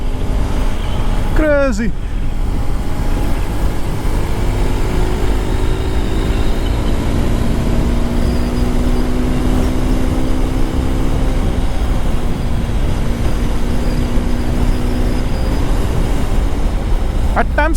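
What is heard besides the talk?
Hero Xpulse 210 motorcycle riding in fifth gear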